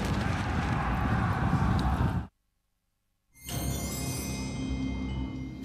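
Carthaginian cavalry horses galloping in a dense, loud rumble of hoofbeats, cutting out abruptly for about a second before the thundering charge resumes, with no voices.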